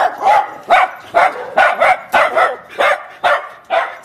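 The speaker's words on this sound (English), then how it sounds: "Dogs everywhere, both strays and used as security out in the front of people's houses behind their gates." Dogs barking in a Mexican neighbourhood, strays and guard dogs behind house gates, a loud, close run of about nine evenly spaced barks repeating rhythmically with no talk over them.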